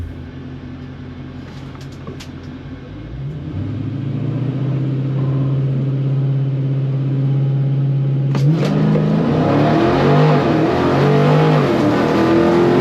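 A Dodge Hellcat on street tires drag racing at a strip, its supercharged HEMI engine droning steadily, then building into a loud roaring launch with rising revs and gear changes up close.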